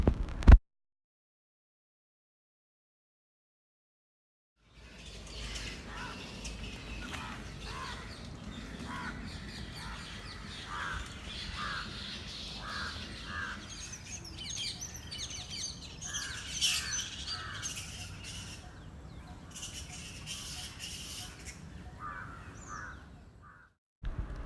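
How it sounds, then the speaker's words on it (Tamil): Crows and other birds caw and chirp across Huddleston Gardens in Chennai after a brief silent start, the calls scattered and moderately distant over a quiet outdoor backdrop. "சென்னையில் இவ்வளோ பறவைகளோட சத்தம், எந்த ஒரு நாய்ஸ் பொல்யூஷன் இல்லாமல் ரொம்ப ரசிக்கும்படியான இடம் இருக்குது."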